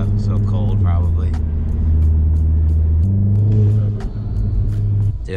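A Volkswagen MK7 GTI with 100k miles idles and revs loudly up close in cold weather, a low steady rumble swelling and dropping across the whole stretch.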